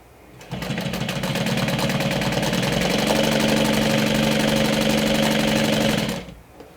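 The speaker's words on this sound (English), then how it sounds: "sew with 1/8 of an inch seam allowance." A sewing machine stitches vinyl into binding along a makeup bag edge at a narrow seam allowance, starting up and running at a steady rapid whir for about five seconds, close and loud, then stopping.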